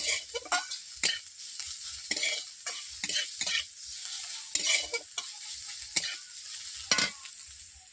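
Ingredients for a spinach and masoor dal are lightly fried in a pan, a soft sizzle punctuated by rhythmic, distinct scrapes of a spoon stirring through them.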